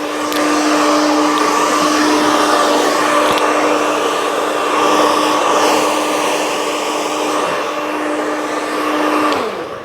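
A vacuum cleaner runs steadily in a hair salon, a loud continuous whining drone with a constant pitch and brief dips near the end, heard alone without talk.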